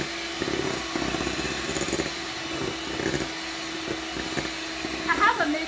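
An electric hand mixer beats keto bread batter in a bowl, a steady whirring drone with slight wobbles throughout, moderately loud and close, with faint talking around it.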